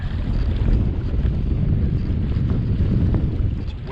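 Strong, steady wind buffets a microphone while kayaking out on open water near an island during a kayak fishing tournament, a dense low roar that holds for the whole stretch with faint water lapping underneath and no voice.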